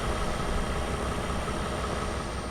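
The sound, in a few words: truck engine idling, video game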